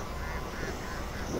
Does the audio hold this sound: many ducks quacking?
yes